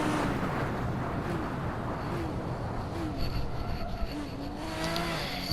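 Toyota Supra race car in a racing video game, engine droning steadily with rising and falling revs as it shifts through gears, loud and close with wind rush and occasional tire noise.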